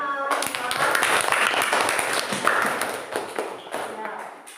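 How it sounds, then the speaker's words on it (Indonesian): Students in a classroom clap together, a dense, fairly close patter of hand claps filling the room and gradually tapering off, with voices mixed in. "Ya, kasih tepuk tangan."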